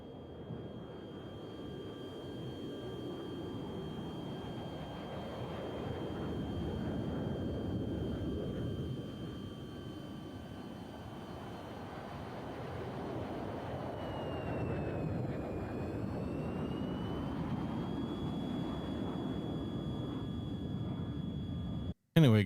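Steady retro flight-sim aircraft engine drone from Tiny Combat Arena, a broad continuous roar with a thin whining tone that dips and rises briefly near the end, ending in a short burst.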